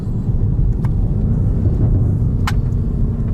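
A 625 hp BMW M5 Competition rumbles with a deep, loud, steady engine drone while warming its tires before a launch, with a couple of brief sharp ticks on top.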